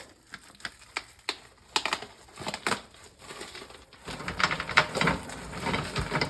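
Little neck clams clattering and rattling into a pot for rinsing, a run of close, sharp shell clicks and knocks that turns into a denser, louder jumble of clatter midway.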